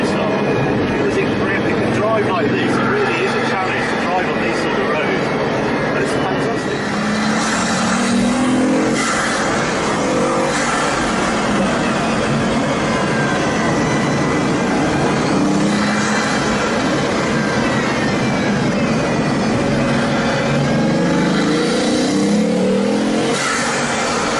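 A Bugatti Veyron Vitesse driving at high speed gives a steady, loud roar of engine and wind that lasts throughout, with someone talking over it.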